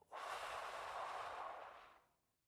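A single long breath drawn in through the nose, a close, airy rushing inhale that swells quickly, holds for over a second and fades out softly, alone in quiet.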